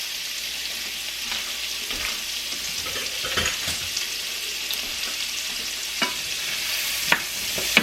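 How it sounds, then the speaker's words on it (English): Onions sizzle steadily in olive oil in a very hot pan, a continuous frying hiss with occasional stirring scrapes and small pops, close and alone. "You're going to toss your onions in."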